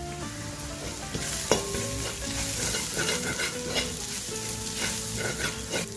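Turmeric, black pepper and garam masala powders sautéing in a pan for a soya curry, a steady sizzle with scraping stir strokes and light clinks throughout, close and continuous with no voices.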